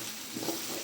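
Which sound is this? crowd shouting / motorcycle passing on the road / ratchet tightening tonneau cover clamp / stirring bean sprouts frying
stirring bean sprouts frying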